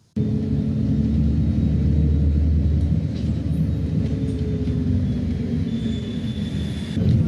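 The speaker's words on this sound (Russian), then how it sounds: "Ребята, еду в автобусе." City bus number 25 in Şanlıurfa, heard from inside while riding from a district terminus toward the bus station: a steady, loud low engine rumble and road drone fill the whole stretch without letup.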